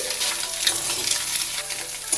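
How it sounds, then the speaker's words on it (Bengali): Two eggs being scrambled into egg bhujia in a hot pan, with a bright, continuous close sizzle and light stirring throughout. "ভাত ভাজার জন্য প্রথমে ডিমের ভুজিয়া করে নিচ্ছি"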